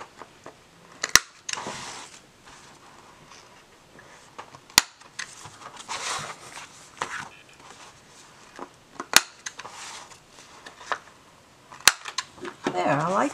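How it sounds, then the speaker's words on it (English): A small corner rounder punch clips the corners of paper journal pages, giving several sharp, isolated snaps spaced a few seconds apart, with quiet handling and rustling of paper in between. "I think I want to round these corners off just a little bit. So I have this small corner rounder."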